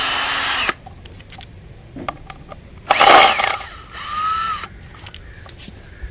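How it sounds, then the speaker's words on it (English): Wall anchors being backed out with a power drill, two loud whirring bursts of the motor separated by quieter clicks and handling noises, with a shorter spin at the start. "you're going to go back and unscrew your anchors"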